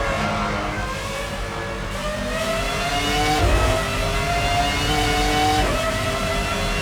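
A Formula 1 race car in the PlayStation 2 game F1 05 leaves the pit lane, its engine whining loudly and steadily with rising revs and gear changes, close and continuous with no talking.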